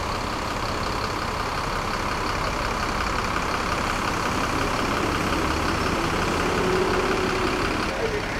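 A bus with a Hino engine idles in a bus terminal, giving a steady low diesel rumble that runs unbroken and fairly close, with ambient terminal noise around it.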